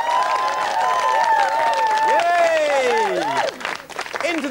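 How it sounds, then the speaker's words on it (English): Studio audience applause and cheering on a 1994 British TV talk show, a loud sustained wash of clapping with whoops rising over it, fading toward the end. "So give them a nice round of applause."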